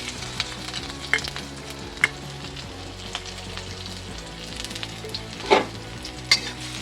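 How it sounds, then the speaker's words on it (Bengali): Grated ginger frying in mustard oil for a Bengali pickle gives a steady close sizzle, broken by a few sharp clinks and scrapes of stirring, with no talk. "এখন একটু হালকা করে ভেজে নেব।"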